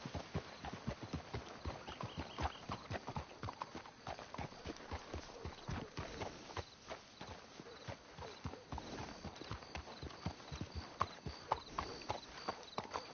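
Horse hooves clip-clop steadily on a hard surface in Red Dead Redemption 2, several animals walking at an even pace, moderately close and fairly quiet.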